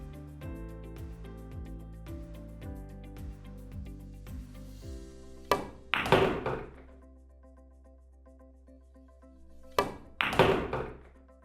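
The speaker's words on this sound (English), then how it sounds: "So let's try to get between the 6 and the 7 here." A pool ball struck in a billiards game, sending the cue ball between the 6 and 7 balls: two sharp clacks of ball contact, then a pause and a second pair of clacks, with soft background music beneath.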